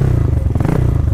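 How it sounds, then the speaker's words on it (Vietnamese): Imported Vento 150cc motorcycle engine idling smoothly, a loud, close, steady low chugging pulse with even rhythm and a faint mechanical clatter. "anh em nghe tiếng máy nổ không?"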